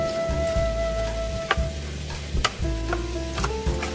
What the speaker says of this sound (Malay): Kita gaul dia bagi sekata dan sebati.